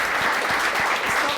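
Audience at a Miss Universe Ireland pageant clapping in unison, a full, loud round of applause with a few rhythmic accented claps standing out.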